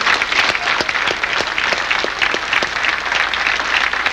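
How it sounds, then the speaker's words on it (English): Sustained clapping from an audience honoring the 1988-89 Watertown field hockey team at a hall of fame ceremony, dense and even throughout with scattered sharper claps and no voices over it. "Applause to the 88-89 field hockey"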